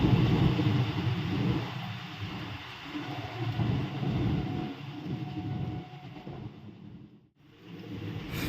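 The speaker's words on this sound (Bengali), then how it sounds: "ট্রেন কিন্তু আমাদের বেশ জোরেই ছুটছে।" A fast-moving train rumbles steadily in loud broadband noise, heard from an open carriage doorway, the roar dipping briefly near the end before swelling again.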